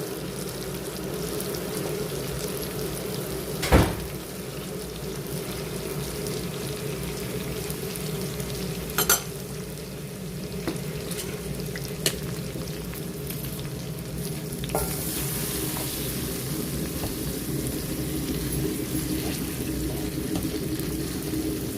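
Spices and yogurt sizzle and fry steadily in a pan for a long stretch, with occasional sharp clacks of a utensil stirring against the metal.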